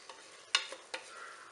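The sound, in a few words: stirring rice and vegetables for veg biryani in pan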